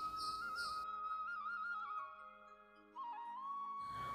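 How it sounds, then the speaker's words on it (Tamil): A pressure cooker cooking vegetable pulao lets out a single steady, piercing whistle that wavers slightly in pitch, sounding alone and fairly close for several seconds. "ஸோ நம்ம குக்கரில் ஒரே ஒரு விசில் விட்டு ஆஃப் பண்ணிடலாம்."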